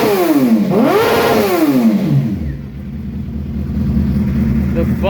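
A motorcycle engine revs hard toward redline, its pitch sweeping up and down in loud close bursts before dropping back to a rumbling idle.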